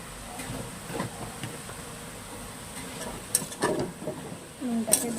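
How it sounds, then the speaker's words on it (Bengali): A spatula scrapes and stirs red amaranth greens with slit green chillies and salt in a pan, giving irregular close scraping and clatter, growing louder near the end, over a low kitchen background. "দিয়ে এটাকে ভালো করে নাড়াবো।"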